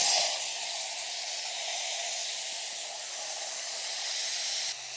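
Water pouring into a tractor's overheated engine brings on a steady loud hiss like escaping steam or spray, sustained and close, then dropping off abruptly at the end.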